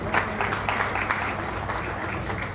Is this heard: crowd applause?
yes